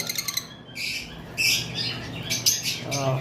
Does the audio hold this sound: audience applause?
no